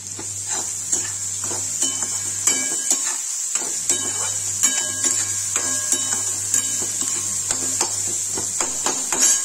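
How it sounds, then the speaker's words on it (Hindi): Onions sizzle steadily in a pan for Kashmiri rajma, with a spoon repeatedly scraping and clinking against the pot, close and clear, and no talking. "ये देखिए प्याज भून गया है"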